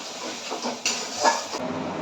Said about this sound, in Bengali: দেখুন আদা, পেঁয়াজ, রসুন বেটে রেখেছিলাম, এটা এর মধ্যে দিয়ে দেবো।